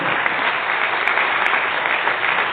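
Continuous applause from a large church congregation, dense and steady clapping throughout with no voices standing out.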